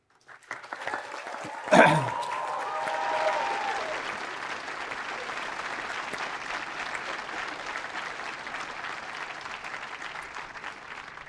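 Large graduation ceremony crowd bursting into loud, sustained applause and cheering that swells sharply near the start, then continues as a dense, steady wash of clapping that fades only slightly over time.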